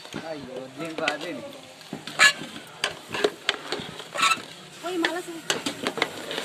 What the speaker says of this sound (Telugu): మా తమ్ముడు కలుపుతున్నాడు గుడాలు.